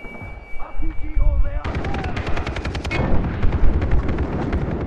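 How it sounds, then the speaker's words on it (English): Rapid automatic gunfire and heavy explosive blasts from a Far Cry 3 co-op firefight burst out close and loud, in dense repeated volleys, with game voices audible early on. "Who was shooting rockets at us?"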